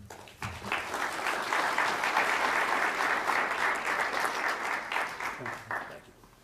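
Audience applause at a George Washington University panel event, welcoming university president Stephen Knapp to the stage: dense, steady clapping from a large room that swells quickly, holds for several seconds and then thins out.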